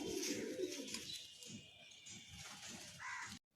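A roughly 14-year-old pigeon kept in a home loft coos softly and repeatedly in low murmuring pulses, faint and close, before the sound cuts off abruptly.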